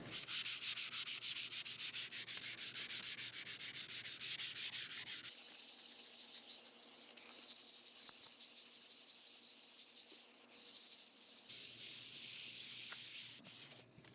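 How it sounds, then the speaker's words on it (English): Steady scratchy rubbing of 220 grit sandpaper over dried automotive primer on an RV fiberglass siding repair, close and continuous, with a brief change in tone partway through and no voices. "I'm gonna go over it with a little 220 grit just to make sure it's really smooth"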